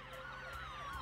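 A police siren wails in GTA 5 during a bank robbery, a steady rising and falling electronic tone sounding continuously at moderate loudness with no voices over it.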